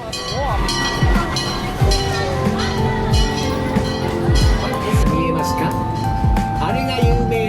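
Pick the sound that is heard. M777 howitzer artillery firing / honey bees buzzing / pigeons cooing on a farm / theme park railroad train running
theme park railroad train running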